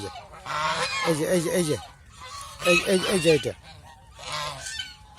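Three loud bursts of honking geese on a goose farm, close by, each a noisy cluster of harsh nasal calls separated by brief pauses.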